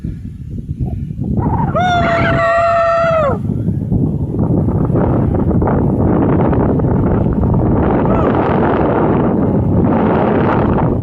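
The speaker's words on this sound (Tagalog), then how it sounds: "Ang lakas ng hangin dito." Strong mountain wind in the Sierra Madre roars and buffets the microphone throughout, with a brief wavering animal-like tonal call near the start.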